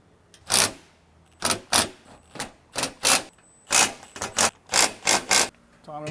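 Small M5 nuts being threaded and tightened onto stainless flanged hex bolts while fitting interior storage in a Toyota Prado / LandCruiser 250: a run of sharp, close metallic clicks and ratcheting bursts in uneven rhythm, with no talk.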